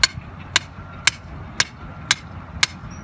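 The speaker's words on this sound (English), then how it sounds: "I'll just start to go into here in this area and pound some holes" Six sharp metallic strikes land at an even, steady pace as a bent metal bar with a chisel-cut tip is driven into a streambed to pound holes for willow stake plantings, each blow loud, close and isolated against quiet outdoor background.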